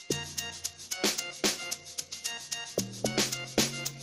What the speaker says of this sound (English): these three log drums sound like this now